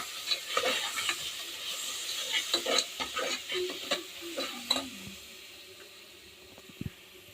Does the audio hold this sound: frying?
yes